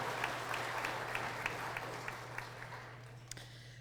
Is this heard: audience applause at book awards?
yes